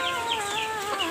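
Kampung hen of the liki-liki jambul breed clucking: a short, close run of throaty, warbling clucks, brief and alone.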